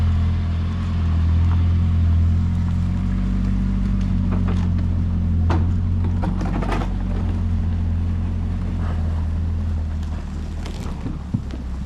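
A vehicle pulls in at a cabin work site, a low steady engine rumble close by with wind buffeting and faint scattered knocks, fading slightly toward the end.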